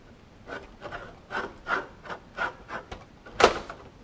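A file or deburring tool chamfers the edge of an aluminum RV-7 elevator stiffener in about ten short rasping strokes at a steady rhythm, close up, ending with one louder scrape.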